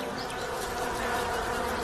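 Honeybees buzz around their hive, a dense steady drone of many insects close by, alone without voices.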